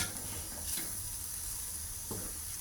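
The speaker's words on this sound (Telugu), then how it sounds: "వేగుతోంది ఇంకా కొద్దిసేపు ఇలా వేగాలి" Chickpea paatoli mixture fries steadily in a pan, a soft continuous sizzle with a few faint scrapes of stirring, quiet and close with no voices.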